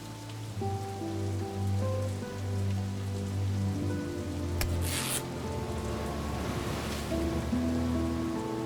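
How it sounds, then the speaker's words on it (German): Rain falling steadily in the video game Satinavs Ketten, an even wash of drops over soft background music, with one brief burst of noise near the middle. "Hier regnet es wohl häufiger."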